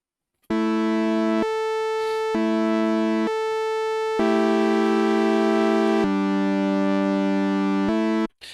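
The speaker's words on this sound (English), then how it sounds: "let's go back to the sine wave again and turn it up to about 30-ish" A steady synthesizer tone using frequency modulation steps between several pitches, each held for about a second, bright and buzzy with strong overtones, ending abruptly.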